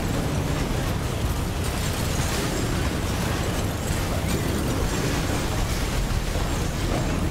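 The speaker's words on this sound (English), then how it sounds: "Yeah, that's a chaos bomb." A Chaos Bomb goes off in Soulstone Survivors amid a chaotic flame-wave build. The result is a loud, sustained wash of explosive noise with repeated bursts and pops and no break in the din.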